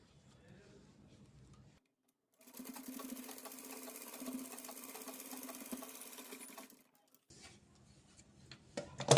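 A sewing machine stitches a cord pendant in one steady burst of rapid mechanical whirring and ticking, close and clear, with quiet pauses and soft handling sounds before and after.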